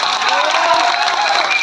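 A jatra audience gives a short, loud burst of steady clapping that fills the space, with a voice faintly heard under it.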